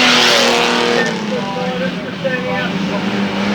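Banger racing cars roaring around the oval at Arlington Stadium, a loud, continuous engine drone with shifting pitch as cars race down the far side, an announcer talking over it.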